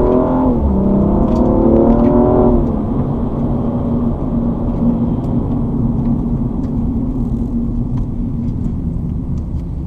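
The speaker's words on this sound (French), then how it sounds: "Vas-y, accélère." A BMW M235i with 326 hp accelerating on a test track, a loud, steady engine drone and road rumble rising briefly at the start and then holding a constant roar from close by, with no talk.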